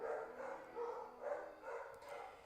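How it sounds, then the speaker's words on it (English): Four dogs barking downstairs in a house, heard as several muffled, distant barks in a loose rhythm, faint and coming through from another floor. "I have 4 dogs downstairs, who tend to bark if anyone comes even vaguely near"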